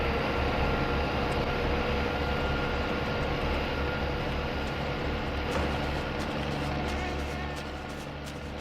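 In the My Summer Car video game, a pump engine on a vehicle is run up to 1500 RPM, producing a steady, dense mechanical roar that holds throughout and eases slightly at the end.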